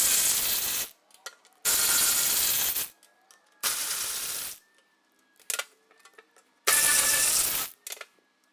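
Loud bursts of a power tool, likely an impact wrench, unscrewing 10mm bolts on a Jaguar XJ electric parking brake motor, four long runs of about a second each separated by quiet gaps with small clicks.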